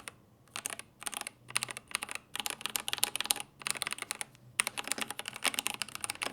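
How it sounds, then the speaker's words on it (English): Fingers type on an OG80 mechanical keyboard fitted with smooth TTC pink switches. The keys give off fast, bright clicks in uneven bursts, with short pauses between runs. The sound is close and quiet and there is no talking. "keyboard has the TTC pinks that are super smooth without any scratchiness."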